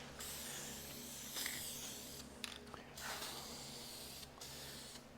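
Spray paint hisses onto a vintage EZ-Seat shop creeper stool in several short, close bursts separated by brief pauses. The bursts are quiet and stand alone, with no voices.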